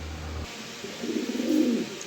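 Pigeons coo softly in a low, throaty burble, a short rolling call rising near the end over a quiet room background.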